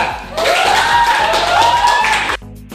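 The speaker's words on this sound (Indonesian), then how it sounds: "tepuk tangan untuk kelompok 2" A classroom of Indonesian high school students claps for a group for about two seconds, a dense burst of applause that starts abruptly and cuts off, with a faint tone running through it.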